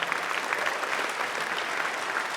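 A ribbon cutting ceremony for the Alan Horwitz "Sixth Man" Center draws a steady round of crowd applause, dense clapping sustained evenly throughout with no voices over it.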